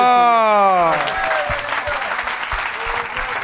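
Loud crowd applause with cheering at a church healing service, dense clapping throughout, with a tonal voice or sung note fading under it at the start.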